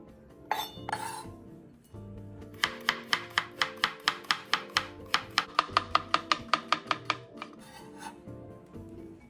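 A knife slices cleaned bitter melon into thin 2–3 mm slices on a cutting board, a rapid, steady run of about twenty crisp, close chops after a few scraping sounds.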